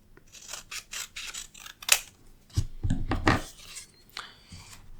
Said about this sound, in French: Et là, je vais découper.